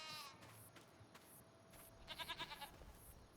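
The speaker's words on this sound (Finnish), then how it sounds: "Mites meidän lampaat ja vuohet sitten voi..." Sheep and goats in Farming Simulator 25 let out a short, wavering run of bleats near the end, close and fairly clear over faint game ambience.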